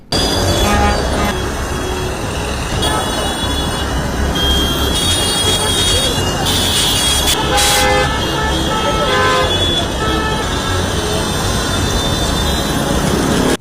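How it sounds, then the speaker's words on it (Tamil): Car horns honking in a Chennai traffic jam caused by a large crowd, with several toots rising above a loud, dense drone of engines and street noise that continues for the whole stretch. "இந்த கூட்டம் வந்ததுனால சென்னை மாநகரம் முழுவதும் டிராஃபிக் எப்படி ஜாம் ஆச்சுன்னு பாருங்கள்"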